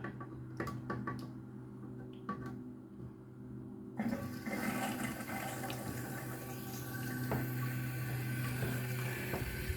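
A Fluidmaster 400 cistern valve refills a toilet cistern from mains pressure, with the valve opened only slightly. A steady hiss of running water begins with a sudden surge partway through and keeps going, with faint clicks beforehand.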